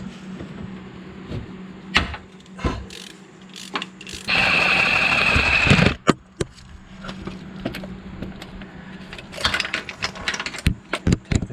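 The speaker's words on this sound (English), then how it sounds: "To take off the tensioner pulley, use a 10mm Allen long ratchet and break it free." A long ratchet with a 10mm Allen bit breaks free the tensioner pulley bolt on a Toyota 1MZ-FE V6, giving scattered close metallic clicks and knocks around a sustained buzzing ratchet burst lasting nearly two seconds midway.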